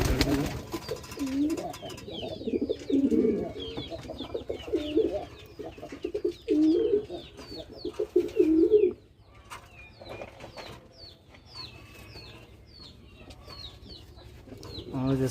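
Siraji pigeons coo repeatedly in low, rolling phrases that swell and fade, with faint higher chirps from other birds scattered throughout and a quieter stretch toward the end.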